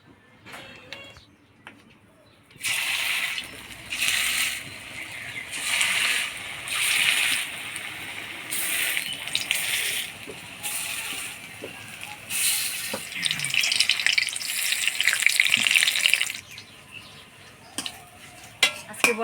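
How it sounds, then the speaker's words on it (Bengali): Gram-flour fritters fry in hot oil in a wok, with a bright sizzle and crackle that rise and fall in bursts over several seconds, alongside occasional utensil clinks and no speech. "এবার বড়াগুলা ভাজে নিব।"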